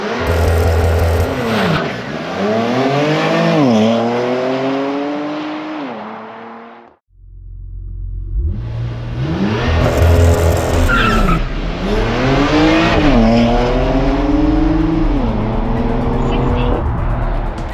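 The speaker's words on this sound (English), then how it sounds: "We are going to be pulling out the Draghi and testing the 0 to 60 on this Macan Turbo." A Porsche Macan Turbo SUV roars through repeated hard launches and upshifts, its engine note climbing and dropping with each gear change and tires squealing. One brief pause separates two runs, with someone talking over the noise.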